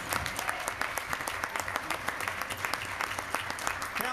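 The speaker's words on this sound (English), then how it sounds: "if we can give a round of applause for our 12 winners" Audience applause for twelve elementary school award winners at a council meeting, steady dense clapping filling the room throughout without pause.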